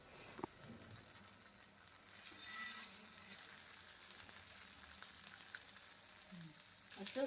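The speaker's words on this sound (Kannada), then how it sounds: "ಬೇಗ ಕೂಡ ಬೆಂದ್ಬಿಡುತ್ತೆ ಬಾಂಗ್ಡೆ ಮೀನಲ್ವಾ, ಜಾಸ್ತಿ ಹೊತ್ತೇನು ಡೀಪ್ ಫ್ರೈ ಬೇಕಾಗೋದಿಲ್ಲ" Mackerel (bangda) pieces frying in oil in a covered pan: a faint, steady sizzle and hiss throughout, with a couple of soft knocks, and little else.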